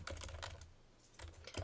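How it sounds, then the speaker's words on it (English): Rapid clicking keystrokes on a computer keyboard while caps lock is on, two quick bursts of typing separated by a short pause, close and fairly quiet with no talking. "I'm just typing the normal keys, and everything is coming out all capital letters"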